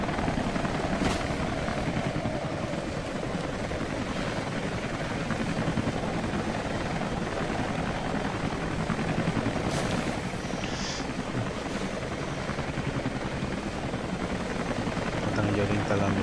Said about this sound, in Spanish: Puerto de mando 2, último helicóptero saliendo.